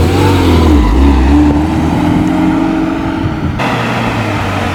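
A Mitsubishi Evo X tuned for E85 pulls away uphill from a standstill, its engine loud and close, revving and straining as the pitch climbs, then easing off near the end.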